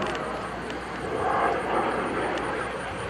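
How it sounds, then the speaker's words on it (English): Distant L-39 Albatross jet rumbling across the sky while performing a barrel roll at the 2011 Culpeper Air Fest, a broad steady engine roar that swells slightly midway under outdoor air show ambience. "Looks like a nice little barrel roll coming down the other side."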